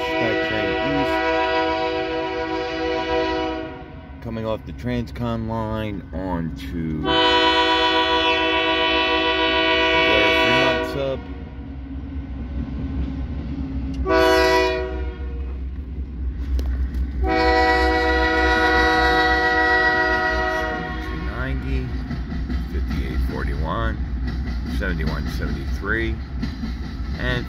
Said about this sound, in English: This is Union Pacific pulling the stack train east